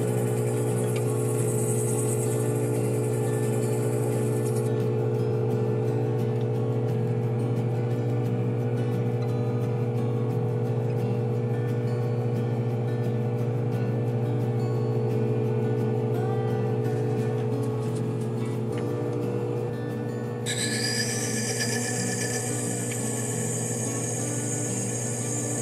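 A gemstone faceting machine cutting pink YAG crown facets on a 600 grit lap, a steady continuous motor whir with a constant grinding hum, close and even throughout with no talking.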